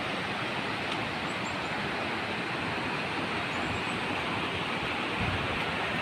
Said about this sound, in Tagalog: ang lakas ng agos ng ito yung sapa from galing sa taas ng bundok